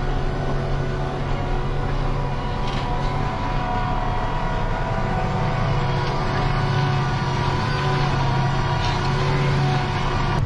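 A John Deere tractor cultivating a wheat field runs with a steady, loud engine drone and low rumble throughout, heard from inside or close to the cab, with no talking.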